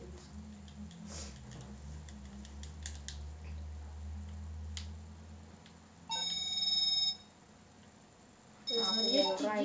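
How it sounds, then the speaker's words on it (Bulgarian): A mobile phone rings in two electronic bursts while hikers climb the highest mountain, with steady background noise and chatter between the rings. "Звънят ти"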